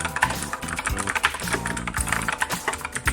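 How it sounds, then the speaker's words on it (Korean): Steady, quick typing on a MANIC X50 optical-switch mechanical keyboard, crisp clicky keystrokes in an irregular rhythm, close and clear with no talking. "광축 키보드의 타건음은 일반적인 기계식 키보드의 청축과 거의 비슷하다고 제가 한번 결론 내리고 싶네요."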